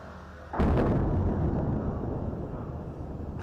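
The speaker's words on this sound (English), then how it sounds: "An explosion in Beirut, Lebanon." A single explosion in Beirut, Lebanon hits as a sudden heavy boom, then rolls on as a long, loud rumble that slowly fades, heard from a distance with no voices.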